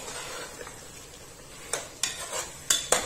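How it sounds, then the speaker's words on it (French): A spoon stirs beef kidneys in tomato sauce in a pan, scraping and clinking against the metal in a few sharp knocks, mostly toward the end, over a faint simmer. "Je vais remuer"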